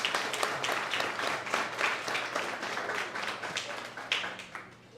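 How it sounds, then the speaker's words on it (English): An audience applauds nominees at a sports awards ceremony, with dense clapping from a crowd that fades gradually over a few seconds. "just go ahead and give everybody a round of applause real quick"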